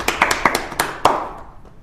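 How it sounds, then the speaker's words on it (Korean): A handful of sharp, separate hand claps, loud and close, spaced irregularly for under two seconds before fading, introducing a guest football player at a talk show recording. "박수!"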